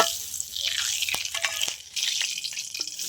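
Ghee sizzles in a pan as dried chili, cardamom, cinnamon, cloves and nutmeg go in for fried rice, making a bright, steady crackle with a few sharp pops and stirring clatters.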